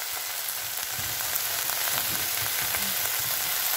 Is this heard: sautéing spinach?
yes